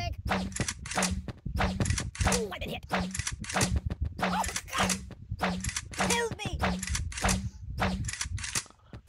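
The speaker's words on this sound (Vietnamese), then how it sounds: "À, làm súng bắn nào." Rapid bursts of cartoonish gunfire from the mobile game Kick The Buddy, a steady train of sharp clicky shots with regular low thumps, loud and continuous over a game soundtrack.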